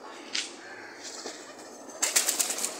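A pigeon flaps its wings as it comes down to land, a quick burst of rapid wingbeats near the end after a few softer rustles, close by.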